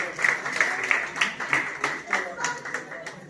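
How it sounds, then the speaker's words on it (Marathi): An audience at a Sant Narhari Maharaj death-anniversary ceremony in Nagpur claps to congratulate Kumari Arya Vitthal Varkate: a rhythmic burst of close claps, with a voice over the applause. "कुमारी आर्या विठ्ठल वारकटे यांच्यासाठी टाळ्या वाजवून त्यांचं अभिनंदन करावं"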